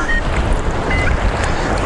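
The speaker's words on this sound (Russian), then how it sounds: "Волна, конечно, сумасшедшая." Strong Black Sea waves surging near a rocky port shore, a loud, dense roar of churning water with wind buffeting the microphone, heard close up and continuous through the short stretch.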